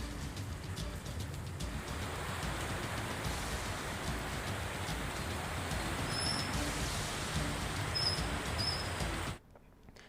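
Heavy rain driven by strong wind from Cyclone Tauktae in rural Gujarat, a steady faint hiss of rainfall with gusty noise throughout, cutting off abruptly near the end.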